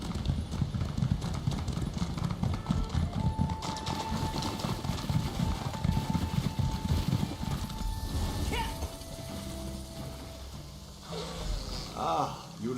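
Hooves clip-clop steadily at a gallop as a horse is ridden in the video game Skyrim Online, a continuous rhythmic pounding close by, with brief tonal game sounds and a voice rising near the end.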